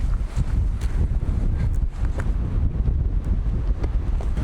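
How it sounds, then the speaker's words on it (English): Strong wind buffets the microphone on an arctic hilltop in Lapland, Finland, a steady loud roar of gusts with no talking. "it's crazy windy up here"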